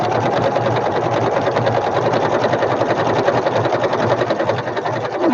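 A sewing machine stitches a flower basket in one steady, continuous run of rapid needle strokes, loud and close, with no talk over it.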